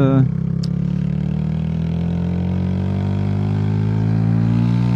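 A Mash Black Seven 125cc motorcycle engine holds around 3000 rpm, a close, steady buzzing hum that slowly climbs in pitch after a brief shift at the start.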